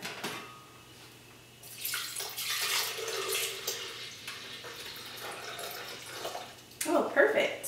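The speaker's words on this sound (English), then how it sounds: "I'm going to pour it in a blender." Almond milk pours steadily into a blender for several seconds, a soft rushing splash, ending with a few clinks.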